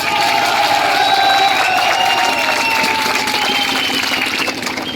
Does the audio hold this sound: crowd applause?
yes